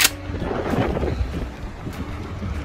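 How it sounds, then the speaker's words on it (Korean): Wind blowing hard at the seashore on a cold morning during clam digging, a broad rumbling gust with buffeting against the microphone, loud and continuous with no talking. "바람 소리 들리시죠?"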